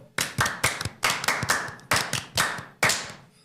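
A group on a podcast claps hands together in unison, seven or eight sharp, loud claps in a roughly steady rhythm, close and clear with no talking.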